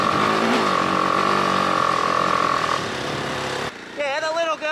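The single-cylinder engine of a BMW G 310 GS motorcycle drones steadily at a held pitch, close and loud, before dropping away as voices take over near the end.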